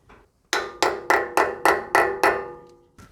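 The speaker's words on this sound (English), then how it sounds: "give it a few taps with a rubber mallet or a brass hammer" A rubber mallet taps a grease cap into place on a Toyota Landcruiser swivel hub: six sharp, evenly spaced knocks, close and loud, followed by one softer tap.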